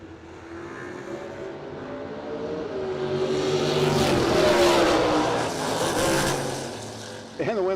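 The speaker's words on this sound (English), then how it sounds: "Wait till you hear the motor on this thing." A comp eliminator or super stock modified drag racing car's engine at a no-delay drag racing event, rising to a strong roar and falling away as the car passes, with a commentator's voice over it.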